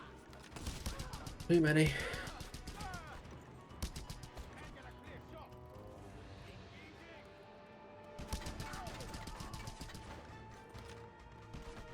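Sniper and other gunfire crack across a Just Cause 2 battle in a string of sharp broadband reports, densest early and again near the end, with a voice talking over part of it.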